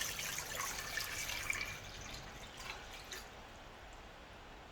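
Water being poured into a pot for making taho, a faint trickling, splashing stream that thins out over a few seconds and ends with a brief knock.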